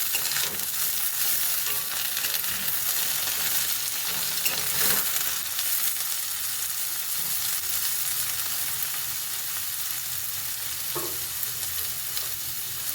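Pointed gourds sizzle steadily in a hot pan, a continuous crackling fry of even loudness with occasional faint stirring clinks and no talking.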